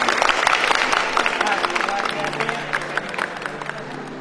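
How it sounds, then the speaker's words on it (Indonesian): Applause from a church gathering, many hands clapping loudly at first and then thinning, with a voice and some crowd noise mixed in. "Tepuk tangan untuk itu."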